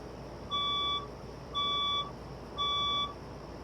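A building fire alarm sounds during a Wednesday morning test: three evenly spaced electronic beeps, each about half a second, steady pitch and loud over a quiet room hum.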